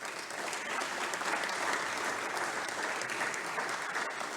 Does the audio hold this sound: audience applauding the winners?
yes